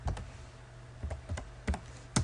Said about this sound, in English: Oops, if I could type here.